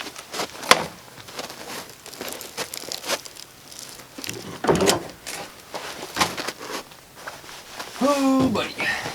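Zipper runs and crinkling fabric as the rear panel of a soft topper on a Chevy 1500 truck bed is zipped and hooked, several rasping pulls and rustles close by with a voice speaking.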